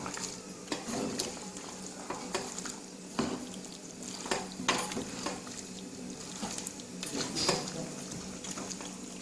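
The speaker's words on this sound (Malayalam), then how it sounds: "നന്നായിട്ട് ഇളക്കി കൊടുക്കാം" Spoon scrapes and clinks against a pan of chicken roast with onions at irregular intervals over a soft background hiss of cooking.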